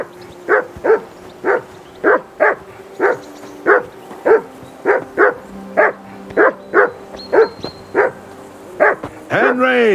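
A dog in the video game Kingdom Come: Deliverance barks repeatedly at a steady rhythm, about fifteen sharp barks close by, with a faint background tone and a rising whine at the end.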